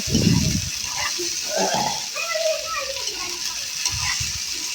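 Potatoes and drumstick pieces fry in a pan, giving a steady hissing sizzle throughout with a few low bumps and some voice-like sounds underneath.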